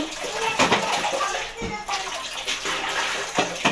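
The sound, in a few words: water filling a container or tub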